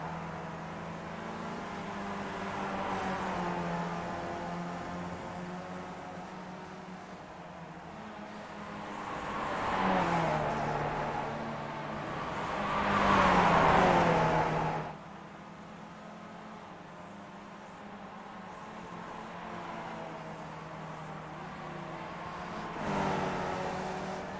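Race cars lap Lime Rock Park in Connecticut in a racing video game, a steady engine drone that swells into two louder revving passes mid-way, then settles back to a constant hum.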